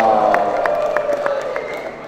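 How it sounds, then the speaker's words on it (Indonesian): Crowd applause and cheering at a provincial government gathering honouring officials and village heads: brisk, evenly spaced claps over a steady roar of voices, loud and close throughout. "tepuk tangan semuanya"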